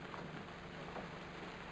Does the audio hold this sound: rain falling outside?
yes